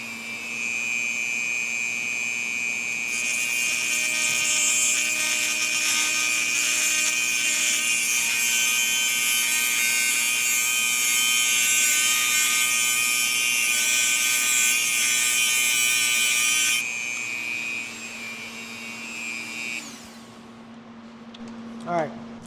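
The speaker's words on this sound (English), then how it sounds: "I'm going to cut this bolt down real quick. By the way, that's what this Dremel's for." Dremel rotary tool cutting a bolt during a Husqvarna K971 saw repair, a loud, steady high-pitched whine held for about fourteen seconds, then a lower hum that winds down to quiet.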